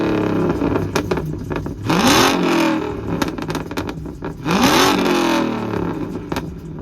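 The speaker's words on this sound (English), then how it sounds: "let's hear the exhaust and let's get to the drifting." Dodge Charger or Challenger with a catless straight-pipe exhaust revving hard, two loud rising throttle blips over a rough, rumbling idle, close by.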